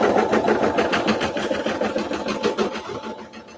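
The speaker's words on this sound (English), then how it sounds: "you can just press the start button and the machine will lower the foot for you and start the stitch" NQ1700E embroidery machine stitching out a design with regular embroidery bobbin thread, a steady fast mechanical whir and rapid needle clatter, close and continuous.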